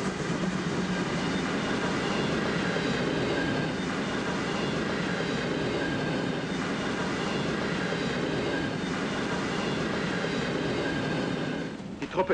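A steam locomotive hauls a heavy military train steadily past at close range, a dense continuous roar with faint rhythmic wheel clatter, fading slightly at the end.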